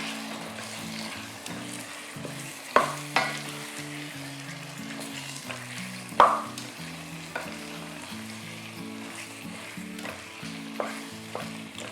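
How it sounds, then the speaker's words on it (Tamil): Chicken pieces with masala and lemon juice being mixed in a hot pan for Dindigul Thalapakatti-style biryani, with continuous sizzling and frying under repeated scraping strokes and a few sharp clinks of the utensil against the pan. "இப்போ நல்லா மிக்ஸ் பண்ணிக்க போகிறேன்."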